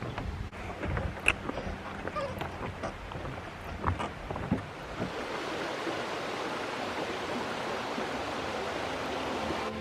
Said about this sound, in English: This is Brown Mountain Creek.